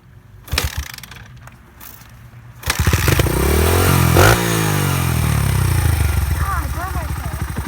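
A dirt bike engine clatters and catches, then revs up loud and close with rising and falling engine pitch, while people talk over it.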